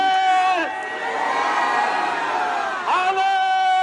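A crowd at a Christian gathering shouts hallelujah back in unison, a loud, sustained chorus of many voices that swells, dips briefly, and rises again.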